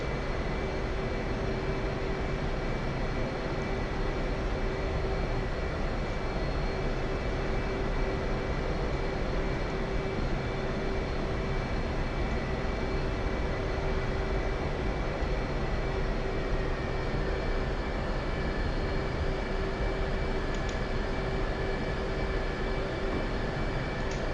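A carrier jet taxis toward the catapult on a flight-deck in a video game, a loud, unbroken engine drone with a steady whine and rumble running throughout.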